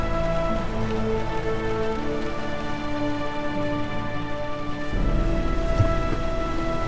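Steady heavy rain in the video game Heavy Rain, a dense continuous hiss of downpour that holds evenly throughout with a slight swell near the end, no voices.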